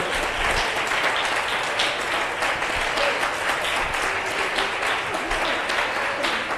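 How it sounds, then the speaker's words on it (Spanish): A church congregation applauds during a worship service, a full, dense clapping roar that stays loud and even from start to finish, with no voice heard over it. "Podemos darle un aplauso al Todopoderoso."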